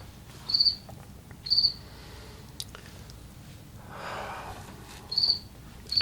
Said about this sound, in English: the crickets are trying to tell me what the mystery card is, but I don't speak cricket